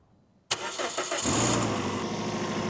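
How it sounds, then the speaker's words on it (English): A car engine started with a cordless jump starter, silence broken by a sharp cranking burst that catches within a second and settles into a steady, close idle. "boost if needed by pressing and starting the car"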